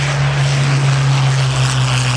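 A WWII-era propeller plane built by the company that once bore the Sopwith name flies past at the Virginia Beach WWII Airshow, a loud, steady, close engine drone with a strong low hum and no voices.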